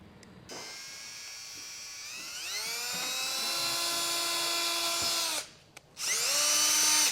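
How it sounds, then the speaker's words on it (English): A power drill bores pilot holes into a 2022 Tesla for an EcoHitch hidden trailer hitch install, its whine rising in pitch as it spins up, running steadily, briefly stopping, then starting again, close and loud with no talk. "we'll get some pilot holes drilled out"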